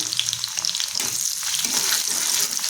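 Garlic and finely chopped green chili sautéing in hot oil in a pan, a steady bright sizzle with soft stirring, close and continuous without any talking.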